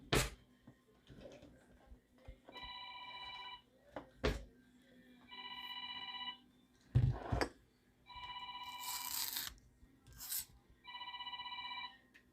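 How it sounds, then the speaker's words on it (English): A telephone rings in a kitchen during cooking, four bursts of a warbling electronic trill spaced evenly apart, moderately loud over clattering and rustling of kitchen prep. "My phone is ringing."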